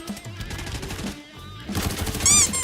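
MP9 submachine gun fire in the Arena Breakout shooter, heard as dense, loud bursts of rapid shots rattling through most of the moment, with a brief lull near the middle and a louder ringing burst at the end.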